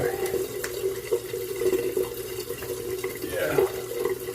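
Running water splashes continuously as a face is rinsed between passes of a straight razor shave, with a steady close trickle and intermittent splashes.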